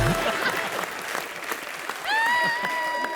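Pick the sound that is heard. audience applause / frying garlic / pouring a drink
audience applause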